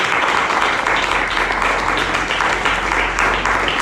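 Applause fills a church Christmas service, a steady roar of many hands clapping together, loud and even throughout with no break.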